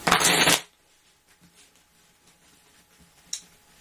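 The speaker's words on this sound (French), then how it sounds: "Allez-y, mélangez les cartes." Playing cards are riffled once in a brief, close burst of crisp flutter, followed by quiet handling with a few soft taps.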